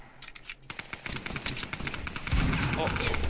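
Rapid bursts of gunfire in the battle royale game Fortnite crackle through a squad match, dense and close, with excited voices talking over the shots.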